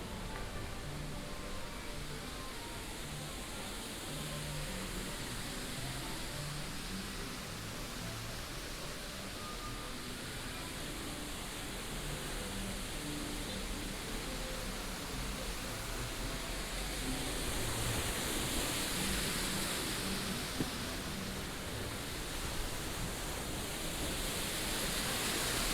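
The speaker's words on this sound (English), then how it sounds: "So enjoy the sound of the waterfall as we walk through the outside." Waterfall at Disneyland Resort, a steady broadband rush of falling water heard outdoors while walking, fairly soft and continuous throughout, swelling slightly toward the end.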